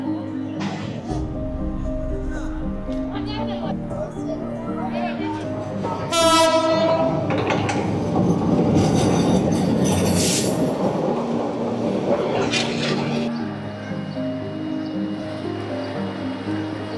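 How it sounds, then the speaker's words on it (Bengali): A train passes by a busy fish market where a vendor sells tilapia, sounding its horn loudly with a sustained blast mid-pass, amid rumbling wheels and steady crowd chatter throughout. "আবার ট্রেন আইতাছে আবার।"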